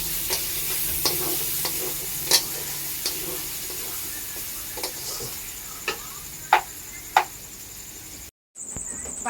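Food being fried in a pan with salt and stirred, a soft continuous sizzle with scattered sharp scrapes and clicks of the utensil against the pan, close and fairly quiet, a brief dropout near the end.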